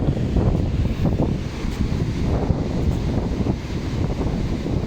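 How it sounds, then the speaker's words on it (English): Gusty wind buffets the microphone on a warm seaside walk around La Mata, a steady broadband roar that swells and eases without a break, with no voices. "Probably guess quite windy today."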